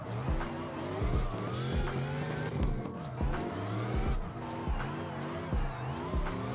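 A drift car in the CarX Drift Racing Online 2 video game revs hard with a steady, harmonic engine whine that climbs and falls, while continuous tire squeal and skidding run under it throughout.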